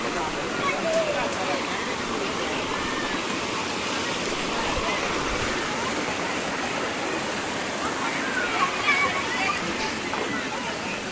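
At Paniyari waterfall in Banaskantha, a stream rushes over rocks in a steady, full roar of flowing water that stays close and constant throughout.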